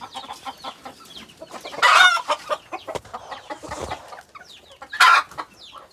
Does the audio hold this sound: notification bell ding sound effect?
no